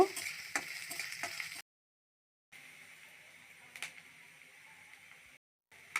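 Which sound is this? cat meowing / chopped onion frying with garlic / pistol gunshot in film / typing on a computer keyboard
chopped onion frying with garlic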